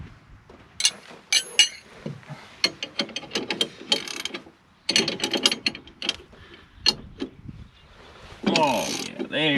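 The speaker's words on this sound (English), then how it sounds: "Actually, I think I have a 15/16 gear wrench." A 15/16 gear wrench ratchets in quick bursts of sharp clicking, close by, with short pauses between runs and a longer rougher burst near the end.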